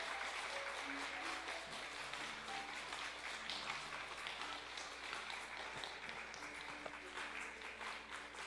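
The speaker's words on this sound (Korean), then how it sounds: "나오실 때 박수로 축하해 주십시오." A church congregation applauds to welcome the candidates for infant baptism, a faint, steady, even patter of clapping that fills the hall throughout.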